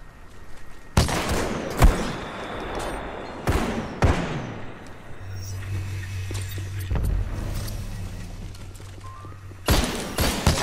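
Gunfire in the shooter game Titanfall 2 cracks out in several sharp, loud bursts spread across the stretch, with quieter engine-like rumble and game ambience filling the gaps between shots.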